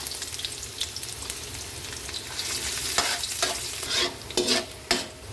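Ginger added to hot oil in a pan for sinigang sa miso with bangus, giving a continuous close sizzle with a few sharper spatula clacks and scrapes toward the end.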